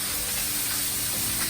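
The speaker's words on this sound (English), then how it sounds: "I like to spray the raw side with cooking spray" Cooking spray hissing steadily onto the raw side of fish in a hot pan, a continuous close, broadband spray with faint sizzling underneath.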